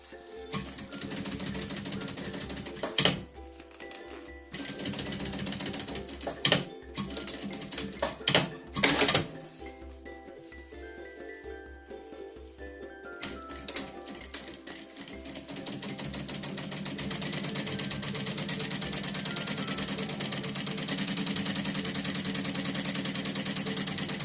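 Sewing machine stitching a topstitch seam along the edge of lining fabric for a zippered toiletry bag, with short bursts and clicks early on, then a long steady motor run building toward the end.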